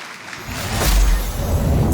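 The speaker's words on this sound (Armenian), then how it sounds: "Շնորհակալություն, ծափարություններ Պանդային" Studio audience clapping for the Panda contestant on a masked singing show, a loud, dense burst of applause swelling over two seconds with no voices on top.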